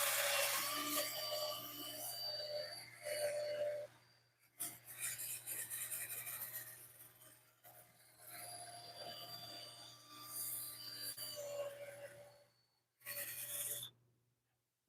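Abrasive scratchy rubbing of sandpaper on a wooden ash bowl over a steady low hum of a spinning lathe, in several long passes separated by brief pauses, fairly close.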